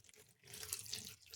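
Running water from a tap gushes briefly and softly over chopped vegetables while aviyal, a Kerala vegetable dish, is prepared. No voices.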